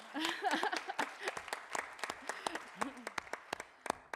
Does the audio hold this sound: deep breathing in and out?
no